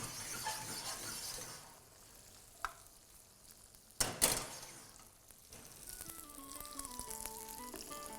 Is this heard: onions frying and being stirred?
yes